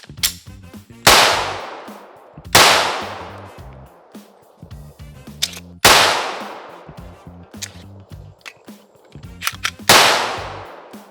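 Four loud pistol gunshots from a Glock-style gun fitted with a Lone Wolf Alphawolf slide and firing 124 grain PMC ammunition, each a sharp crack with a ringing decay, spaced irregularly a couple of seconds apart, with faint handling noises between.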